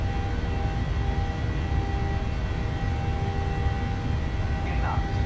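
Steady, loud jet roar of PMDG 737-700 engines spooling at takeoff power in Microsoft Flight Simulator, a constant broadband rumble filling the whole stretch with no pauses.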